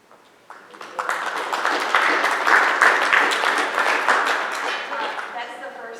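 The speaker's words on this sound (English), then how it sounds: "That's the first time I've had anybody clap for my data." A board meeting audience claps after a data presentation, a dense wash of applause rising quickly and holding steady for several seconds, close and fairly loud.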